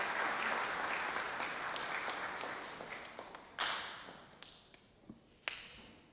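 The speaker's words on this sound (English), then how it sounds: "Would you give them a round of applause?" Audience applause at a hall of fame ceremony, a broad steady wash of clapping that gradually thins, with a few sharper isolated claps standing out near the end.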